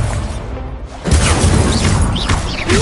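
Spell blasts from the video game Hogwarts Legacy: a sudden loud fiery burst about a second in, followed by sustained crackling, whooshing combat noise with no pause.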